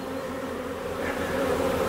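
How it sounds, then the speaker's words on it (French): Honeybees swarm densely in a crowded beehive, producing a loud, steady, continuous droning hum with no pauses. "Regardez comme c'est blindé d'abeilles."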